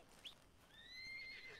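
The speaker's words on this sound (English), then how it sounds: "I'm glad both the horses came." Horses in the Red Dead Redemption 2 video game arriving, with a faint whinny and soft hoof sounds rising to a drawn-out neigh, fairly quiet and distant.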